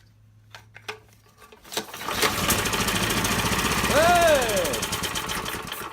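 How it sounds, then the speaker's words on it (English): Small generator engine after a carburetor fix, a few pull-start rattles, then the motor catching and running with a loud, steady buzzing drone; a man calls out and speaks over it. "Look at that. Got a running engine."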